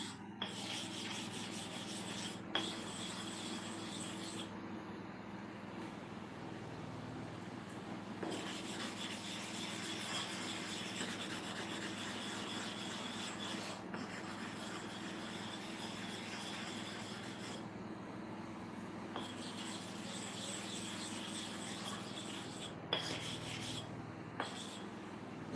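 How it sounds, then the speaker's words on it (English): Sharpening stones being resurfaced, likely while setting up to sharpen a tapper clipper blade, giving a continuous close grinding rub with steady back-and-forth strokes across the whole stretch. "I'm trying to refresh the surfaces of my stones."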